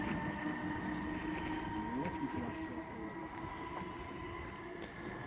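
Tilting passenger train passing on the West Coast Main Line at Carluke, a steady rolling rumble with faint tonal whine holding throughout, a voice briefly talking over it.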